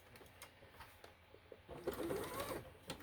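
Home sewing machine stitching a scrap fabric leader while quilting, a steady whirring run of stitches that swells louder partway through, close by with no talk.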